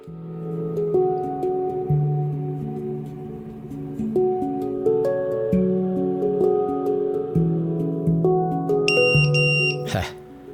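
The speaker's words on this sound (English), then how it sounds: "Buzzer showing me it works when power is cut off." A custom 5-inch FPV drone's buzzer sounds after its power is cut: loud, steady electronic tones step through a series of pitches and end in a brief burst.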